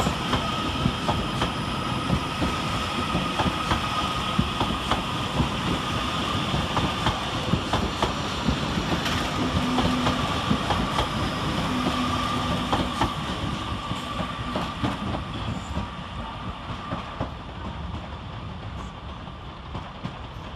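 Trains at Manchester Piccadilly railway station, with Northern and CrossCountry units arriving, rumble and clatter steadily throughout, with rhythmic wheel clicks, a faint squeal and constant station hum, no talk.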